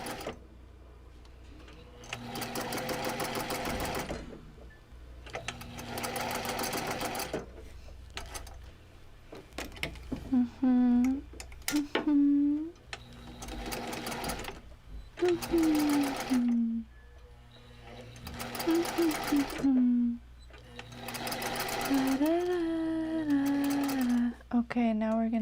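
Sewing machine stitching at zero stitch length to start a seam without a back tack, running in repeated bursts of steady rapid whirring separated by brief pauses, with a sustained tone rising and falling in the later bursts.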